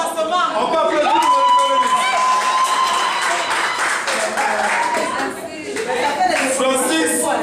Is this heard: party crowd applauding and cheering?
yes